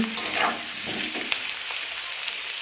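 Vegetables including potato fry in hot oil in a pan for khichdi, a steady close sizzle with occasional stirring clicks and scrapes.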